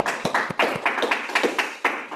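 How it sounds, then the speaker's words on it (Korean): Small audience giving a round of clapping at a Korean AI news seminar, scattered individual claps in uneven rhythm, moderately close, with a faint voice underneath. "그 큰 박수 한번 일단 치시고 네."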